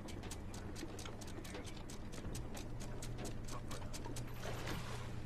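An anchor is winched up aboard a pirate ship in Sea of Thieves. It comes as a steady, fast ratcheting clatter of gear clicks that runs throughout over a low creaking hum, with no speech.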